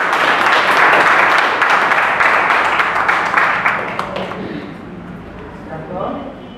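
A wedding party gathered for a civil marriage breaks into loud, sustained applause that gradually tapers off, leaving quieter murmuring at the end.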